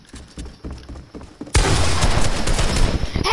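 Video game gunfire breaking out suddenly after quieter footsteps, a loud, dense burst of rapid automatic shots that continues to the end, close and alone.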